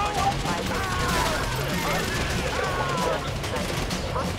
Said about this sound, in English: I'm getting shot at, fuckers.